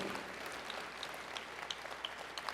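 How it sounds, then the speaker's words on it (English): Sustained applause from a standing audience of spouses, children and friends at a college engineering graduation ceremony, a steady dense wash of clapping with a few sharper individual claps, moderately distant. "All stand and let us applaud you"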